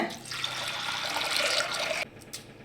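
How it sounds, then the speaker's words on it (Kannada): A steady stream of water pours into a pot of cooked field beans for about two seconds, then stops abruptly, leaving a quiet room with a faint clink. "ಸ್ವಲ್ಪ ನೀರು ಹಾಕೋಣ"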